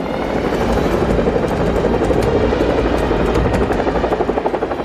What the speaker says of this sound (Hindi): ये थे ब्रिटेन के चिनूक हेलीकॉप्टर